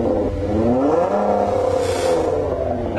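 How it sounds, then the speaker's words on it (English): A Detroit muscle car's exhaust note just after start-up outdoors on Woodward Avenue: a loud, close burbling engine rumble that climbs in a brief rev and settles back to a steady idle, with no talk over it. "Listen to the exhaust note. It's amazing."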